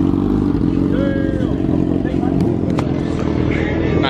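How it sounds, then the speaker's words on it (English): Motorcycles roll up to a nighttime car meet, their engines rumbling steadily under the babble of a crowd, with people talking nearby over the noise. "I got bike boys pulling up too."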